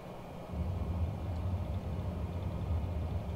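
An airliner rolling out on landing at Honolulu in Microsoft Flight Simulator with reverse thrust engaged, a low, steady engine roar that swells after half a second and holds, fairly quiet and with no talk.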